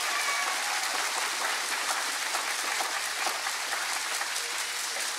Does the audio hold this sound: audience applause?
yes